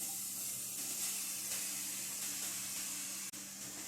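Grated carrot tipped into hot ghee in a pan for carrot halwa, giving a steady close hiss and sizzle that runs throughout, with a brief knock near the end.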